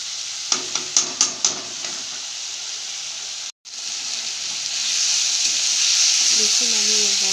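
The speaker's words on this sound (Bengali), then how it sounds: "দেখুন আমি চিকেনের মধ্যে আমি ধনিয়া পাতা কুচি দিয়েও আবার ভালো মতো কষিয়ে নেব" Chicken pakora mixture with chopped coriander frying in a pan, a loud, steady sizzling hiss with a burst of quick scraping stirs early on, a brief break, then continuous frying and faint voices.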